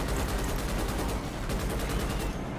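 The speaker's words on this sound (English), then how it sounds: "That's an artillery from somewhere." Distant artillery and rolling gunfire in the sci-fi shooter game Starship Troopers: Extermination, a dense continuous barrage of booms and crackle with no pauses.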